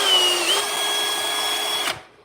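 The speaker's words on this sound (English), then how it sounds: "what that drill does is it not only does it make the hole, but it pulls the chunks out" A power drill boring a hole, a loud steady high whine close by that runs evenly for about two seconds, then cuts off and winds down.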